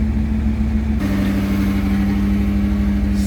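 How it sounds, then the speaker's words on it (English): A Mercedes engine with K-Jetronic fuel injection runs close up at around 1500 RPM, producing a loud, steady mechanical hum that shifts slightly in pitch after the first second. "So now we're basically almost 1500 RPM"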